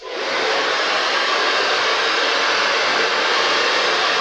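A hair dryer blows hair downward in a steady, loud, broadband rush of air that starts quickly and holds constant for a few seconds, close up, with no talking.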